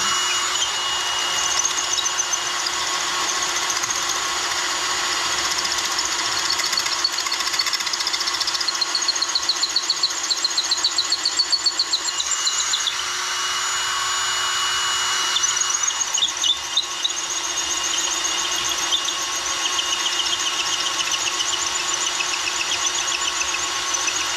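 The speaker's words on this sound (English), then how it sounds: "I think it's a hammer drill though" A hammer drill runs continuously while installing PEX water supply in a basement, a high whining buzz with rapid pulsing chatter, steady and close for over twenty seconds with brief shifts in intensity.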